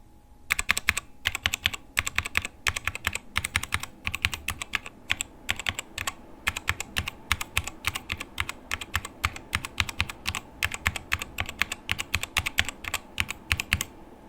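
Rapid, clicky keystrokes on a mechanical keyboard pour out in quick irregular bursts, close and crisp, with no voices.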